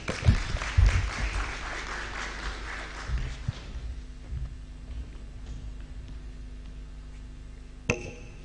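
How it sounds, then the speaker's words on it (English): An audience at the Kenya Internet Governance Forum 2024 bursts into loud applause that fades over a few seconds into lighter scattered clapping, with a short tap near the end. "Please let's appreciate our PS engineer John Kipchumba Tanui one more time with a round of applause."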